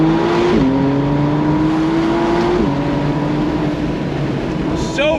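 A McLaren Artura Spider launches hard under launch control, engine pitch climbing steeply through two quick upshifts, loud and close with a cabin drone beneath.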